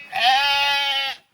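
A single loud, close sheep bleat, wavering and nasal, holds steady for about a second on a wet farm with ducks and a donkey pen nearby, then cuts off; no one talks over it.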